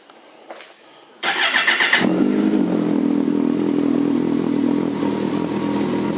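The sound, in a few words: 2009 Kawasaki ZG1400A Concours motorcycle engine starting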